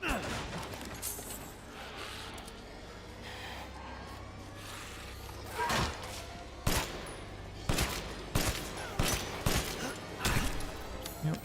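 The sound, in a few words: shotgun fire in video game Resident Evil Village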